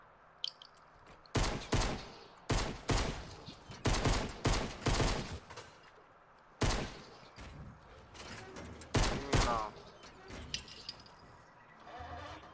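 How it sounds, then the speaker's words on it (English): Fortnite gunfire comes in several loud, separate bursts of rapid shots with short pauses between them, over quiet game ambience. "Marcel, stop shooting people next time, alright?"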